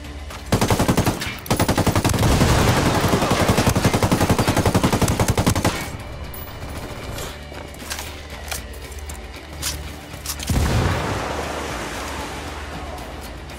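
Heavy gunfire and explosive blasts in the Ghost Recon Wildlands video game, a loud dense burst of rapid shots over the first several seconds, then quieter scattered battle noise with another loud blast near the end.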